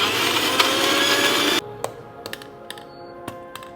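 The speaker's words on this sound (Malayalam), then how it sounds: "ഇത്രയും നമുക്ക് ഒരു ഫൈൻ പേസ്റ്റ് ആയിട്ട് ഗ്രൈൻഡ് ചെയ്തെടുക്കാം." A kitchen mixer grinder whirs loudly, grinding a squid marinade paste with salt and lime juice for Kerala-style tawa-grilled squid, then cuts off abruptly, followed by a few light clicks and taps.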